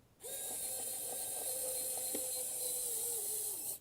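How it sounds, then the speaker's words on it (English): Screws being driven back in to secure the motherboard of a DIY N100-based NAS, a steady close mechanical whir with a faint ratcheting tick throughout, with no talk. "then we'll just start putting these screws back in"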